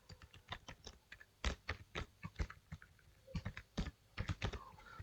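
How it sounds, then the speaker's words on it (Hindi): Someone types on a computer keyboard, producing quiet, irregular bursts of key clicks with short pauses between words and no voices. "ये जो आई अंडरस्टैंड लिखा है इसको यहाँ पे टाइप कर देंगे।"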